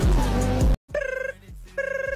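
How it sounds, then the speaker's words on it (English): A telephone rings in short, rapid bell trills, with two bursts separated by a brief pause, following a loud burst of other sound at the start. "If that phone rings again, you're going to have to answer it on speaker."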